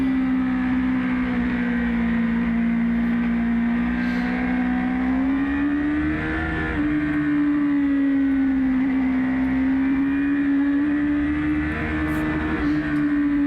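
Race car engine holding a steady, loud drone as the car drives through corners on a track during preseason testing, pitch easing slightly and rising again, close and continuous with no talk.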